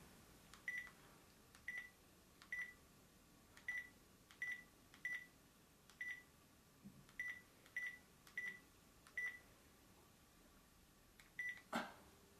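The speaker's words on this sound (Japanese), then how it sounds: "自分の携帯に今なりましたので、一応これで電話機として、使えます" A cordless phone handset calling a mobile phone gives a steady series of short electronic beeps at an even pace, faint and alone with no talk.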